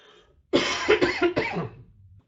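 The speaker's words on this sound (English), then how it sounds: "I'm going to be coughing a lot." A short burst of several hoarse coughs close to the microphone, three or four rapid hacks trailing off into a throat clear.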